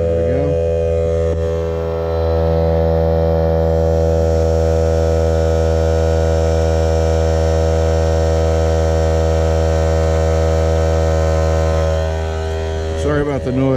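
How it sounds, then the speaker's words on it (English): An air compressor runs steadily while an RV is being winterized, a loud continuous droning hum with strong low tones that holds for about twelve seconds before cutting off near the end. "compressors are all hooked up with air. We're going to turn it back on"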